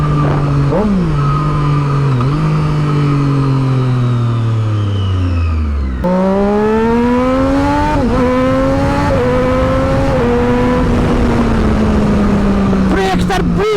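Triumph Daytona 675R sport bike with an SC Project exhaust accelerating hard, its engine climbing through several rising pitch sweeps with quick-shifter gear changes, loud and close under a rider's excited talk.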